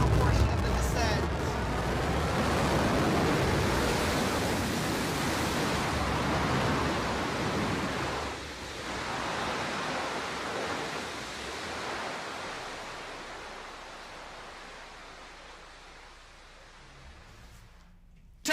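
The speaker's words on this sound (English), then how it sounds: "And the BE-3 engine relights for the final portion of the descent." The BE-3 rocket engine of a Blue Origin New Shepard booster roars as a broad, rushing noise during the landing descent, loud at first and then slowly fading, with a commentator talking over it.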